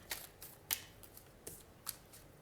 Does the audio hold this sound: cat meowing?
no